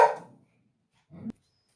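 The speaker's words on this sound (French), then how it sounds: "les chiens ils s'étaient mis à aboyer" Dogs bark indoors, one short bark at the start that fades, then a second brief bark about a second later, close and fairly loud, with silence between.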